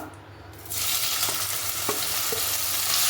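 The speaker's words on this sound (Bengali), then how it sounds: "এবার আমি চিংড়ি মাছটা ভেজে নেবো" Steady hissing sizzle of shrimp frying in hot oil, loud and continuous with a few faint clinks, no talking.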